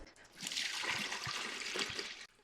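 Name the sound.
water being poured into a mead-making bucket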